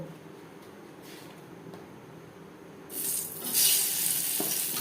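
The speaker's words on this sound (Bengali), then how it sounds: "সবার প্রথমে পনির ভেজে নেব।" Oil sizzles in a kadai as paneer is fried for a vegetarian potol and paneer curry. A faint, steady hiss swells suddenly into a louder, bright crackle about halfway through, with no talking.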